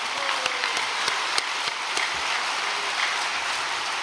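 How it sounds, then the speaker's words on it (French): Scattered applause from an audience at a church vigil gathering, a light, steady patter of clapping with a few sharper individual claps, moderately distant. "applaudissez-les pour leur travail"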